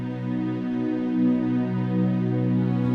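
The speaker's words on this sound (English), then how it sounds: "I also changed the acoustic strings to a pad sound in Omnisphere" Omnisphere pad patch blending acoustic strings with a synth pad, a warm, steady sustained chord swelling gently over three seconds, played alone with no talking.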